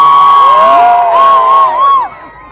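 A crowd boos, whoops and shouts at a speech by former Chief Minister Pinarayi Vijayan, with loud, wavering, shrill voices sustained for about two seconds before dropping away.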